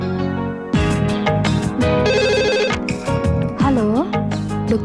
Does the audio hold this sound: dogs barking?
no